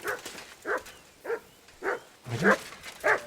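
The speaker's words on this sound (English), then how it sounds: "Good dog, Mutt." A dog in the video game Kingdom Come Deliverance 2 barks six times at a steady rhythm, each bark short and fairly close, with quiet gaps between.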